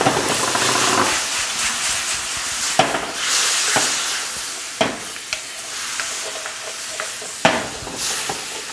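Cold mango pieces dropped into hot, nearly smoking caramel sizzle and hiss steadily in the pan, with a spoon stirring and clicking against it now and then, fairly close and with no talking.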